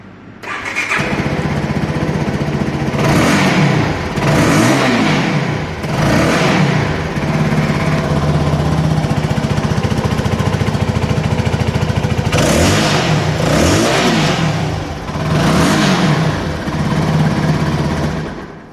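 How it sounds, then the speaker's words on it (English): A CFMoto 300NK motorcycle engine cranks and fires up, then revs repeatedly in loud exhaust bursts over a steady rumbling idle, with the throttle blipped several times. "So let's start and hear the exhaust note."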